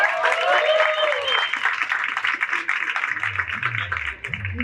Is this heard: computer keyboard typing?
no